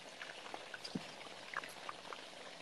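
Cream coming to a boil in a pot on the stove, a faint scattered crackle of small bubbles popping and ticking, quiet and steady with no talk.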